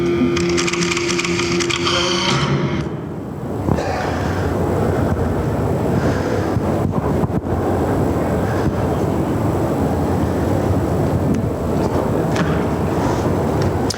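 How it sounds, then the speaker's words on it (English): A pinball machine's lockdown bar is pulled out. Continuous loud, scraping and rattling mechanical noise lasts throughout, with dense broadband clatter and no clear pauses. "So he's taken out the lockdown bar."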